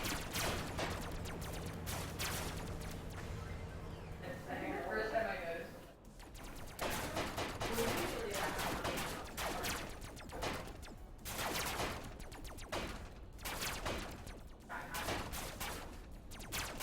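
Rapid bursts of pulse weapon fire in the robot combat game Robocraft crackle loudly and repeatedly, broken by a short pause, with game noise throughout.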